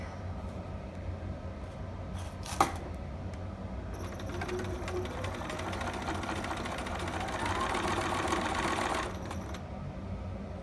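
A sewing machine runs a short back stitch on a two-piece sitter garment pattern, one steady whirring burst lasting several seconds after a brief click, close and moderately loud.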